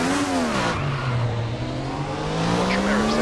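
A race car in the RaceRoom racing game draws near, its engine note sweeping up and down loudly amid tire squeal, a continuous close roar.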